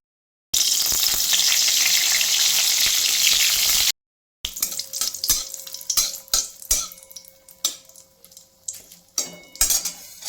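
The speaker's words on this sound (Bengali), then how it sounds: "শুকনো লঙ্কা সম্বর দিলাম" Dried red chillies hit hot oil in a wok while vegetable khichdi is being cooked. A loud, steady sizzle lasts about three seconds, then after a brief gap comes a run of close metallic stirring clatter with the frying still underneath.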